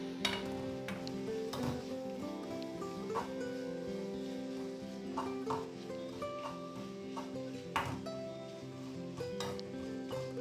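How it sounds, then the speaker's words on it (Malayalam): Onion and ginger sautéing in a pan for a Kerala sadya inji curry, with a steady sizzle and stirring scrapes running throughout, under a layer of soft background music. "ചെറുതായി ബ്രൗൺ കളർ ആവുന്നത് വരെ വഴറ്റി കൊടുക്കാം."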